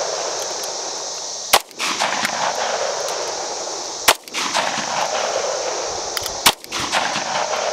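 Sig Sauer pistol in .357 SIG fires three loud, sharp gunshots a couple of seconds apart, each cracking over a steady outdoor background roar with no talk.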